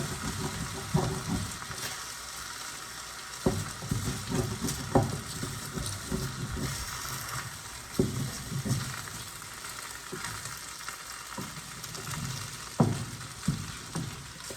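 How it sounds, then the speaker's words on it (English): Meat stirred and scraped in a hot pan, steady frying sizzle with irregular clanks and scrapes of a utensil against the pan, close and moderately loud, no talking. "we mix it once more, and then plate it"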